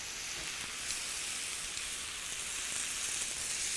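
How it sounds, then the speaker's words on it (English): Prosciutto-wrapped scallop skewers sizzling steadily in a hot pan, a constant bright crackling hiss close up with no pauses. "The prosciutto is crisping up beautifully."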